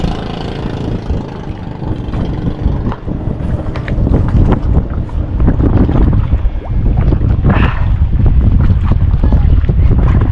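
Strong wind buffeting a microphone on a Philippine waterway, a loud, gusty roar rising and falling over about ten seconds, with scattered knocks and handling bumps.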